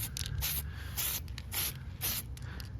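Short hissing bursts of Tamiya PS44 translucent green spray paint from an aerosol can misting onto a clear Lexan RC car body, several light passes in a row, steady and fairly close, with no voices.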